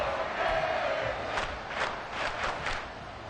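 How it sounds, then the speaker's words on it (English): The crowd in a football stadium at a Dolphins v Jets game roars and cheers during a big play, a broad sustained wash of distant voices that swells in several waves. "A big play here. Crowd on their feet."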